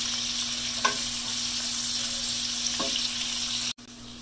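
Onions fry in a pan with a constant steady sizzle and a couple of faint clicks from stirring, close and even, then a sudden brief cut near the end.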